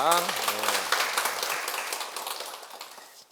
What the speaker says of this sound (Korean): 이분 박수 부탁드립니다